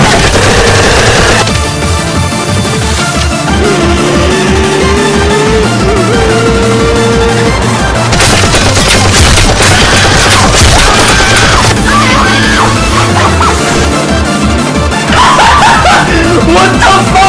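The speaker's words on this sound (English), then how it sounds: "Heavy machine gun." Heavy machine gun fire in a Warzone first-person shooter video game, loud sustained rapid bursts mixed with explosions, music and game noise, with voices shouting and laughing over the top.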